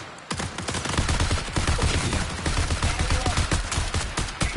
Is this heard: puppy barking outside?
no